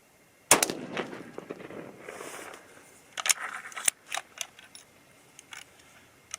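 A 6.5 Creedmoor rifle fitted with a muzzle brake fires a sharp, loud shot at the range, followed by further cracks and clanks spaced over the next few seconds, with brief ringing tails.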